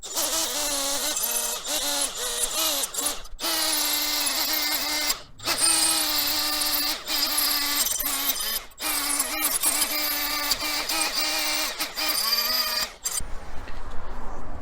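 Die grinder whines steadily as it cleans up a metal part, a loud continuous high-pitched buzz broken by several brief pauses, then cutting out near the end.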